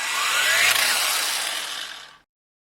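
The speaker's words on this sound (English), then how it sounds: "So I'm going to buff these out and just scratches." A power buffer whines loudly against old bronze golf club heads for about two seconds, its pitch climbing briefly, then it stops abruptly into silence.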